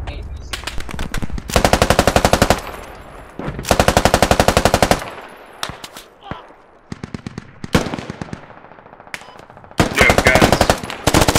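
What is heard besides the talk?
gunfire in the video game Squad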